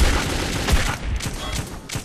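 Enemies shooting in the Metro 2033 video game: a dense, continuous volley of gunfire with repeated sharp thumps, loud and close, with no talking.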